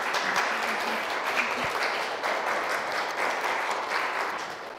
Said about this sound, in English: Let's give another round of applause to Terri.